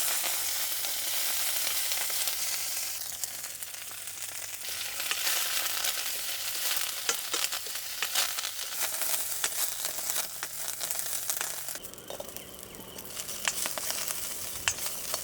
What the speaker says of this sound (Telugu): అదే కడాయిలో 1 చెంచా నూనె వేసుకుని పచ్చిమిర్చి, కరివేపాకు, వెల్లుల్లిపాయలు కూడా వేసుకొని చక్కగా వేయించుకుందాం